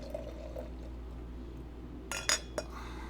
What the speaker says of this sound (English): Pour this into our Avery chalice here.